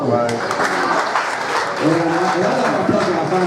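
Audience at a talk or question session giving a round of applause, a loud, continuous patter of clapping with a voice speaking over it partway through.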